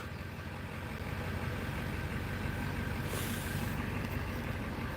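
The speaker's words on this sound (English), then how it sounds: "he is a loud truck." A truck engine rumbles steadily nearby, a low continuous drone that swells slightly partway through.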